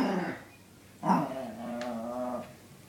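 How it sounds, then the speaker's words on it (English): A dog growls low, then gives a single sharp bark-growl at a cardinal and holds a rumbling growl afterward, close and fairly quiet, with no talking. "Why you bark at a little tiny bird."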